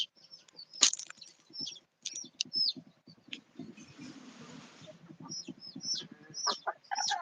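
Chickens cluck in soft, scattered bursts, mixed with sharp chirps from nearby birds and a short stretch of rustling in the middle.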